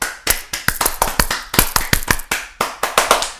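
A small group of podcast hosts clap in a short round of applause, sharp uneven hand claps close to the microphone with no talking over them.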